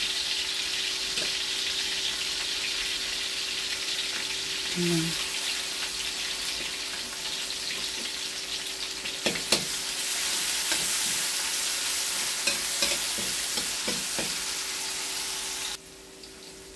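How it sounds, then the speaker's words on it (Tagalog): Garlic and onion sautéing in hot cooking oil for pinakbet, a continuous loud sizzle with stirring clatter and brief water splashes, a voice faintly present in the background. "Naglagay na po ako ng mantika. Sunod na po natin yung bawang. Lagay ko na po yung bawang. Sunod ko po ay sibuyas."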